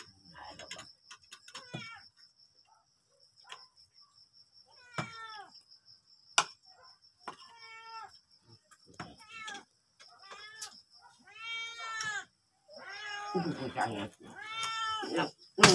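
A pet cat meows repeatedly in a home, a series of short and drawn-out cries that grow louder and more insistent toward the end, with a faint steady whine in the background.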